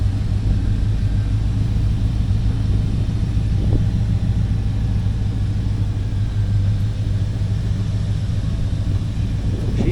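A little red truck's engine rumbles steadily and close for the whole span, a low continuous drone with a faint brief rise near the end.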